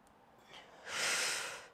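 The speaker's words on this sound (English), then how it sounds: "and exhale as you pull back" A person exhales sharply during a single-arm bent-over row with a resistance band, a single close, breathy whoosh that swells after a faint earlier breath and then fades.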